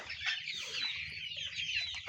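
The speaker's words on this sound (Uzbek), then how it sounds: "Andijon qora jo'jalarimizni yana bir partiyasi mana" A batch of young Andijan black chickens, about 67 days old, on a farm clucks and chirps in a continuous, fairly soft chorus of overlapping calls, with no talking.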